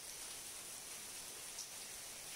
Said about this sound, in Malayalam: രാവും പകലുമില്ലാതെ തിമിർത്ത് പെയ്യുന്ന മഴ